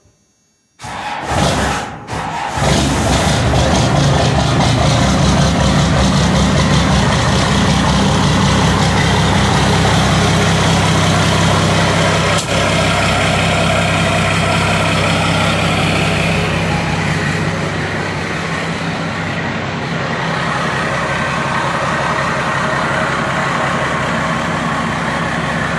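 A truck engine idles after starting in cold, snowy weather, with a loud, steady low rumble close by that follows a brief cranking burst at the start and holds level for the rest, with no talk.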